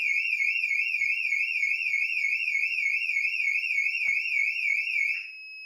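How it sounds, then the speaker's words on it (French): A Siemens home alarm siren, set off by a motion detector, blares a loud, rapidly warbling electronic wail that holds steady for about five seconds, with a single click near the end before the tone drops away. "Il se déclenche. La sirène sonne. Elle est très puissante."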